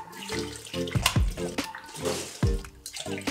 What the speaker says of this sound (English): pouring a bunch of bottles inside to fill up this monstrosity